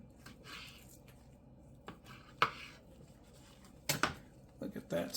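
Knife slicing through a USDA Prime beef roast to cut ribeye steaks, with a few soft, brief cutting and squishing sounds scattered over quiet background, the loudest strokes coming near the end.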